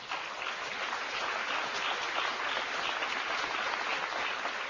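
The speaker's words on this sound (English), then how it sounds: "And I'd like you to give them a round of applause." Steady applause from the audience at a National Governors Association meeting honoring cabinet officials, an even wash of many hands clapping at moderate distance, sustained without pause and with no voices over it.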